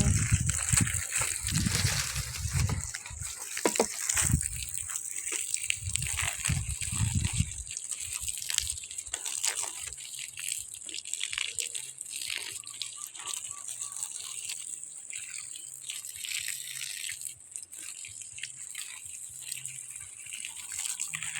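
Water gushing and splashing while guava trees are watered in a small backyard orchard, loud sloshing for the first several seconds, then a steadier trickling flow continuing close by.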